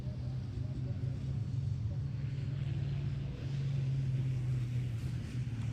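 An onboard racing car engine drones steadily at Pembrey circuit, a low, continuous rumble with a slight rise in pitch under the car's acceleration, while a commentator talks over it.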